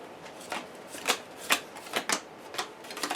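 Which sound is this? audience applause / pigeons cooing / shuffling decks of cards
shuffling decks of cards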